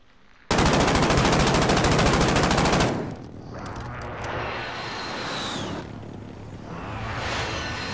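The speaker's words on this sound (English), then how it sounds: "friendly precision airstrike inbound" Precision airstrike in Call of Duty: Modern Warfare: a loud, dense rapid-fire strafing burst of about two and a half seconds, then rumbling aftermath with a swooping jet pass and lingering roar.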